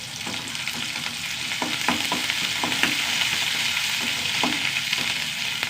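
Small onions frying in a pan with curry leaves, a steady close sizzle with scattered crackles and occasional stir taps throughout.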